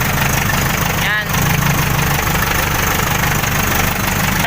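An Isuzu 4BE1 diesel engine idles steadily after a head gasket replacement, a loud, close, continuous rumble with an even beat and a brief dip near the start.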